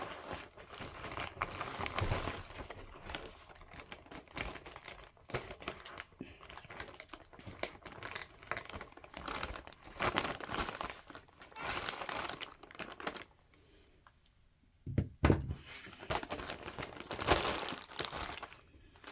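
Plastic packaging from an online order being cut open along three sides, giving a steady stream of close crinkling and crackling with brief sharp snips and handling noises, no talk.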